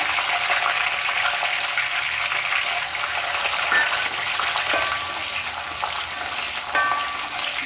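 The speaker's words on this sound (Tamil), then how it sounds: "நல்லா சோம்பும் வெந்தயமும் பொரிஞ்சிருச்சு கூட கருவேப்பிலையை போட்டுக்கலாம் பூண்டு போட்டுக்கலாம்" Fennel seeds, fenugreek, curry leaves and garlic fry in hot oil for a Chettinad okra tamarind curry, giving a steady, close, loud sizzle with small crackles and pops throughout, and no voices.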